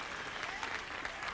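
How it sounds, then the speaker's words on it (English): A church congregation claps hands together during a Sunday morning service, a dense, steady patter of many palms that keeps going for the whole brief moment with no break. "Clap your hands for the real Holy Ghost victory."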